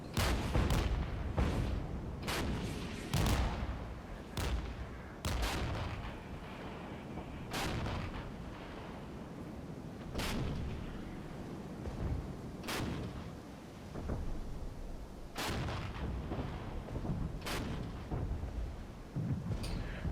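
Artillery and mortar fire in the Regiments war game, with heavy booming blasts landing in an irregular barrage, some close and sharp, others rumbling, over a continuous low battlefield roar.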